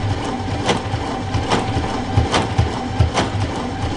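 A sewing machine runs steadily while machine-quilting a flying geese block, giving a continuous mechanical whir with a regular stitching pulse, close and fairly loud, with no talking.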